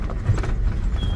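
Horses move along a countryside track, a soft, rapid clip-clop of hooves close by under a steady outdoor rumble, with no talk.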